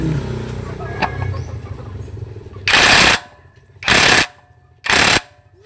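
Impact driver tightening the oil drain plug on a Suzuki DA64V minivan, three loud rattling bursts of about half a second each, spaced roughly a second apart, following a quieter stretch of low shop noise.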